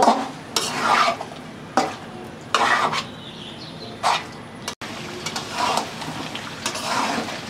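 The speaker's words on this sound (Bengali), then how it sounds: "এই তো মাংস কলিজাটা কিন্তু সুন্দর করে কষায় নিচ্ছি" Boiled beef liver stir-fried with spices in a pan, repeated scraping strokes of a spatula over a low sizzle, with a few metallic clinks.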